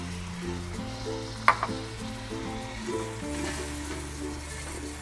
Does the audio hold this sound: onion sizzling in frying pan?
yes